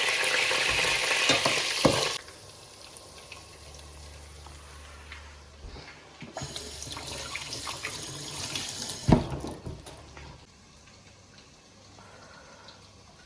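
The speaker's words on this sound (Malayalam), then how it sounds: "ഈ ബാക്കിയുള്ള ചിക്കനും കൂടെ നമുക്കിങ്ങനെ ഫ്രൈ ചെയ്തെടുക്കാം" Pieces of chicken fry in a pan for chilli chicken, with a low continuous sizzle interrupted by bursts of running tap water and clattering of utensils nearby.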